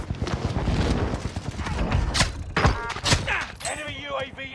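Gunfire rattles in a multiplayer shooter at Fortune's Keep, with rapid bursts of shots and thuds that come in clusters and fade toward the end.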